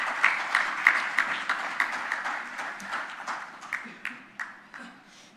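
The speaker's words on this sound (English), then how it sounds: "Please, with a huge round of applause, please welcome our chief guest, Mr. Mohammad Ali." An audience at a Pakistan power sector conference applauds to welcome the chief guest, a moderate round of clapping that gradually thins out over several seconds.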